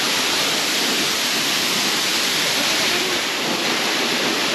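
A constant, loud roar of falling water from the Velo de Novia waterfall in Temalac, Guerrero, fills the scene, a dense rushing hiss with no pauses.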